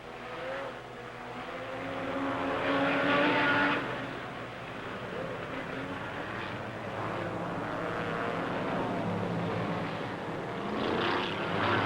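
Race cars at the 1957 Indianapolis 500 roar past in long swelling waves, engines rising and fading at a distance over a continuous crowd-and-track murmur.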